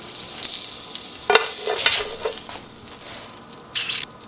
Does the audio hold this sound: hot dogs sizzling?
yes